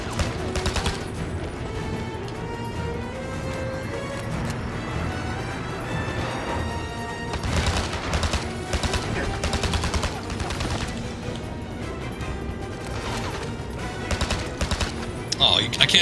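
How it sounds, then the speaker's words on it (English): Gunfire rings out in the James Bond 007: Blood Stone video game, with repeated bursts of shots and rapid automatic fire over a dense game soundtrack, loud and continuous throughout. "I can't shoot through the grate"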